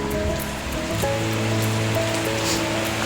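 Heavy rain falls during the rainy season in northern Thailand as a dense, continuous hiss and patter. A faint steady hum sits underneath, and nobody speaks.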